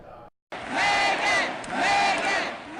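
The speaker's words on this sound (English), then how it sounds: "The same supporters cheering on Megan Barry on her election night in 2015" Loud crowd of supporters roaring and cheering at an election-night victory for a Nashville mayoral candidate in 2015, rising in two big swells after a brief gap of silence.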